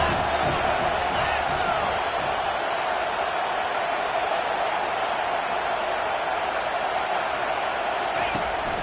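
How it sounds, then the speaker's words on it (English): A packed stadium crowd roars continuously through a college football game between UMass and Miami on third down, a dense, sustained wall of noise with commentary over it. "this crowd is tearing the lid off this place"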